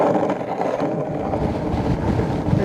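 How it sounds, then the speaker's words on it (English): Strong gusty wind buffets the microphone while skateboarding outdoors, a loud steady low roar with no voices. "It's crazy windy right now."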